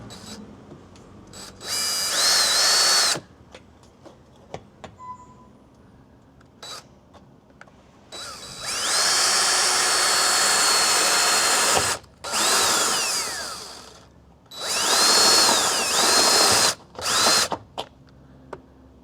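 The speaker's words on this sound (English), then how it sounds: "So we're gonna drill a hole, get these in" A power drill bores holes into the A-pillar of a 4th gen Toyota Tacoma for rivet nuts, with several loud, high whirring bursts of a few seconds each, separated by quiet pauses and small clicks.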